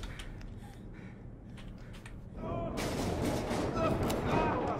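A gunshot volley in the video game Deceit erupts partway through, loud sustained firing following a quieter stretch with faint background voices.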